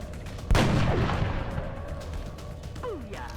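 A single sharp, loud gunshot from a headshot in XCOM: Enemy Within, with a booming tail that rings out for a few seconds and faint swooshing effects afterward.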